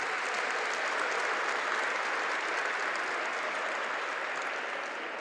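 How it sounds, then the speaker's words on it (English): Audience applause in a hall at the Chicago Field Museum of Natural History during an evening tech event, a dense, even roar of clapping sustained for several seconds. "Could we give a round of applause for everybody?"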